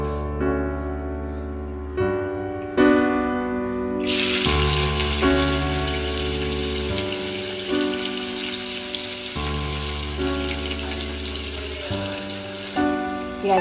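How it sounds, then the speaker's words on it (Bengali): Onions hitting hot oil in a kadai already seasoned with a bay leaf, white cumin and four dried red chillies: a loud, steady hiss and sizzle bursts in partway through and runs on unbroken, over a low tonal hum and with no talking. "পেঁয়াজগুলো ভাজা হয়ে গেছে।"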